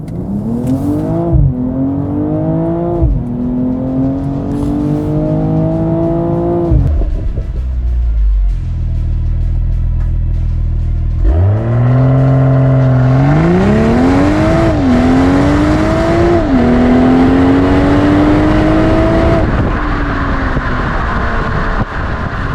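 A 2022 BMW M240i accelerates hard in Sport Plus mode. The engine revs climb through several gears with brief dips at each shift, then fall to a low idle rumble before surging again, loud and close, with no talking.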